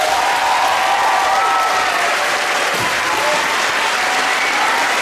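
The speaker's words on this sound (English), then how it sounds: "Let's give them one more round of applause." Loud, sustained applause from the audience at a middle school winter concert, a dense wash of clapping filling the whole stretch without a break.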